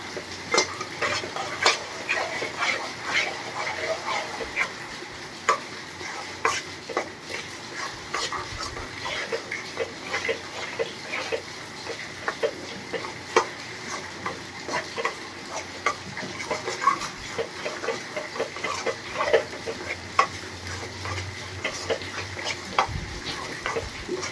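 Ground peanuts are stirred into bubbling jaggery syrup in a pan for mandvi pak, with steady close scraping and clicking strokes over a constant bubbling sizzle.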